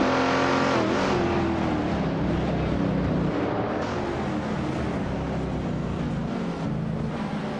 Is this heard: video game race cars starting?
yes